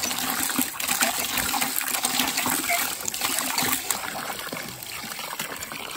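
Muddy, silt-laden well water pours steadily into a 5-gallon bucket with a continuous close splashing gush and trickle, while people talk quietly over it.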